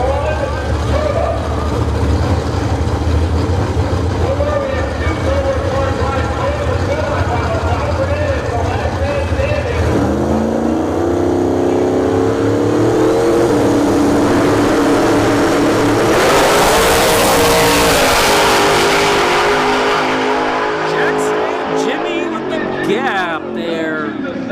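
Drag race cars with nitrous and turbo launching at a live drag racing event at Bradenton Motorsports Park: loud sustained engine roar, a sharp shift partway, then a surging scream of acceleration, with commentary talking over it.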